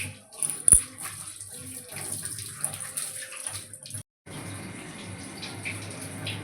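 Tap water runs into a pan being washed after marinating meat in a home kitchen, a steady splashing gush with brief clatter. The flow stops for a moment and then resumes.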